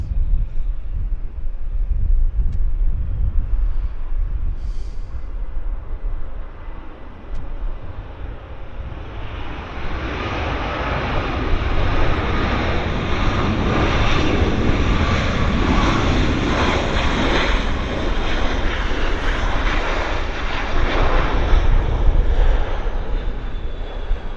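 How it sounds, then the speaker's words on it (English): A Boeing 787 Dreamliner airliner arrives at Vancouver airport, its jet engine roar swelling from a distant rumble into a loud, broad, sustained rush that holds steady as it passes. "And here comes that Dreamliner."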